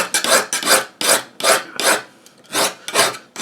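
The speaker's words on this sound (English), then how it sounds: "I'd probably file that out with the file like I'm doing here now" Hand file stroking the edge of a steel skinning knife, a loud, close rasp repeated in seven or eight even back-and-forth strokes.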